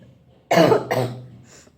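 Two close coughs from a woman with a month-long cold, a strong hacking burst followed quickly by a weaker second one, then quiet room tone.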